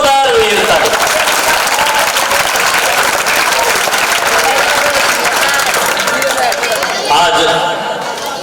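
A live audience claps loudly and continuously after a children's skit, dense applause filling the whole stretch with a brief swell near the end, voices mixed in.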